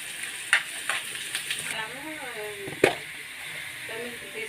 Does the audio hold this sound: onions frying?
yes